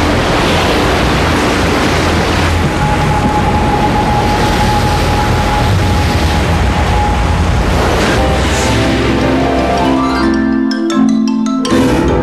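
Strong ocean waves roar steadily throughout, a dense continuous wash of surf with heavy low rumble and no voices.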